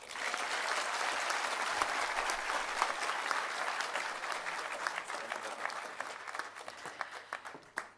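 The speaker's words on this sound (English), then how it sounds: "Let's give our Right Honorable Prime Minister another round of applause as he takes his seat" Sustained applause from an audience as the Prime Minister takes his seat at a national development plan launch, steady dense clapping throughout with a low hum beneath, thinning slightly toward the end.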